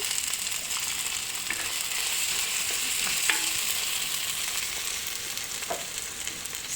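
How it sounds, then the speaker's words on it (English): Garlic sizzles steadily in a hot pot as canned tomatoes go in, a constant close frying hiss with a few soft knocks and scrapes scattered through it. "now is the time to add some tomatoes. Okay, so first can goes in"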